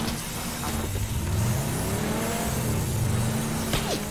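A car engine in the video game PUBG revs and drones steadily with rising and falling pitch, fairly loud and continuous, with a brief whoosh near the end.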